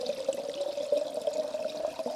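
Alaskan glacier spring water runs steadily into a container outdoors, a close, continuous pouring and trickling sound with no break.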